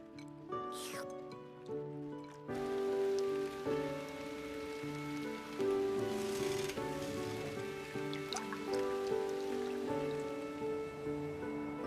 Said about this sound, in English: I don't mind the rain at all.